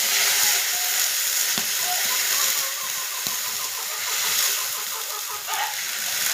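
A paste of onion, ginger, garlic and chili sizzles loudly in hot oil with bay leaf and whole spices, a continuous close hiss and crackle running the whole time.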